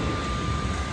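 Airliner engines roar steadily as the plane starts to roll away from the gate, a dense, constant rumble heard from inside the cabin with no talk over it.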